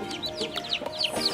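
Newly hatched chicks peep in quick, high chirps, several overlapping calls close by in a coop, bright and repetitive with no talking.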